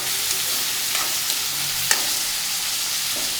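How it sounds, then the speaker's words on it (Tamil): Eggplant, onion and tomato sautéing in a pan, a loud, dense, continuous hiss of frying with a few soft clinks and scrapes of stirring. "கத்திரிக்காய் அது வெங்காயம் தக்காளி அதோடு சேர்ந்து நல்லா வதங்கி கலரே சேஞ்ச் ஆகும்"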